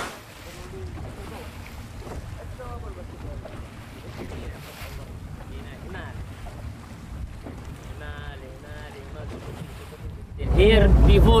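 Steady wind buffets the microphone aboard a ship at sea near the port of Aden, with a constant low rumble of water and engine beneath, rising into a louder gust at the end; faint voices in the background.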